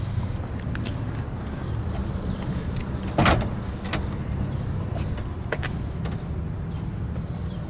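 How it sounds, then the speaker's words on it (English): The door of a 1956 Chrysler New Yorker unlatches with a sharp clunk midway through, surrounded by small clicks and rattles against a steady low background rumble. "And we'll open up the door."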